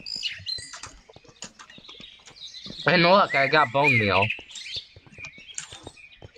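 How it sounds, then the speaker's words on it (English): Birds chirp in short repeated tweets around a modded Minecraft survival world, sounding near and moderately loud under steady talk from a player, with a louder game sound in the middle. "except for the fact that there's birds everywhere."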